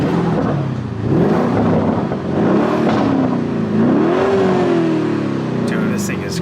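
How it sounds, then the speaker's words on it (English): Sports car engine switched into Corsa mode, revving loudly in several rising and falling swells close by, with a person talking over the engine. "I'll give you guys a quick few revs. So if we put it in Corsa. Now it just became even louder."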